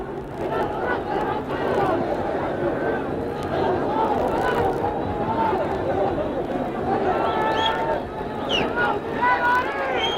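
A surging crowd fills Madison Square Garden after a boxing match between Esteban De Jesus and Roberto Duran, a steady loud roar of many voices throughout with an announcer's voice on top.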